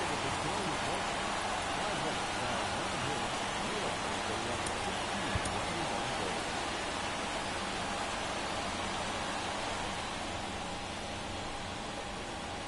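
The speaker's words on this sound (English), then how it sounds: "Raining." Steady rain hiss fills a baseball stadium in MLB The Show, constant and broadband throughout, with no distinct drops standing out.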